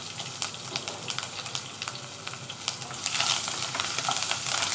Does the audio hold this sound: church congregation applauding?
no